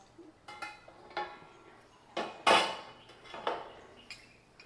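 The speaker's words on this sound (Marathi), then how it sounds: "आता ह्याला झाकण लावूया" A lid goes onto a pan of Konkani dhodak batter: a few light metallic clinks and clatters, one sharper knock in the middle, quiet and close with no talk.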